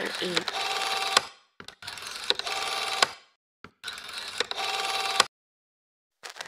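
A telephone in a radio play rings in three long bursts separated by short silences, loud and close, with a brief trailing bit at the end.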